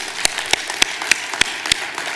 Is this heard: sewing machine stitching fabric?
no